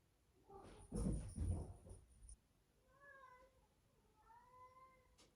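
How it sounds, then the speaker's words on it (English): A house cat meows twice in short, tonal calls after a stretch of indoor speech-like noise, fairly quiet and close. "That would be my cat."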